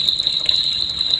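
Water running from a bathroom sink tap, a steady, close, continuous hiss with a constant bright tone and no pauses or talking.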